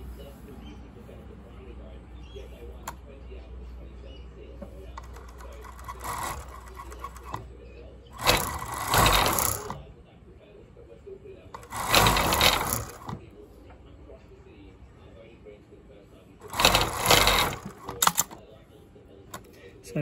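Cover stitch sewing machine hemming fabric, running in three short whirring bursts separated by quieter pauses with faint handling noise.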